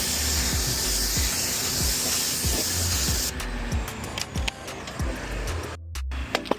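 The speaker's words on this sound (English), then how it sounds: "Now all I add is a wheel cleaner." Wheel cleaner hisses in a sustained spray onto the wheels of a Hyundai Santa Fe, then breaks into short bursts and clicks of the trigger toward the end.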